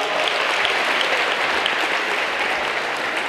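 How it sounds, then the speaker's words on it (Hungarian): A crowd gives loud, dense, sustained applause for a mascot at the opening of an ice rink in Ajka, filling the whole stretch without pause. "Nagy tapsot kérek szépen az Ajkai kabala figurának."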